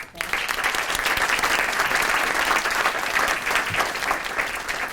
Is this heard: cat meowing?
no